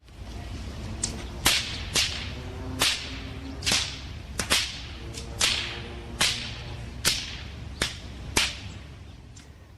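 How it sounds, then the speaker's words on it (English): Bullwhips cracked outdoors downtown by a couple of men, about a dozen sharp, loud snaps at a steady, slightly uneven pace, each with a brief swish before it and no talk. "It shows a couple of guys with bullwhips cracking them in a downtown"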